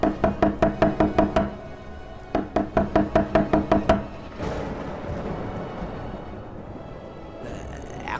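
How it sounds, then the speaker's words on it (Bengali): Repeated knocking on a door in a tense night scene, two bursts of about eight quick, sharp raps each, loud and close, followed by a low rumbling noise and fading quiet. "দরজার উপরে ধাক্কাও থামল না।"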